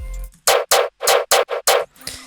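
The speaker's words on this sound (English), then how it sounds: "It's just hi-hat with some disperser to enhance the high ends" Six bursts of bright, noisy hi-hat hits processed with a disperser sound in sequence, each a loud, close, airy crash-like swish with a sharp start and quick cutoff.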